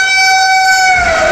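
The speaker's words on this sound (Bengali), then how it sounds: "পুরো ধুলো উড়িয়ে 22348 বন্দে ভারত এক্সপ্রেস" A 20-coach Vande Bharat Express, train 22348, sounds a loud, sustained multi-tone horn as it passes, the chord holding steady before its pitch slides downward near the end.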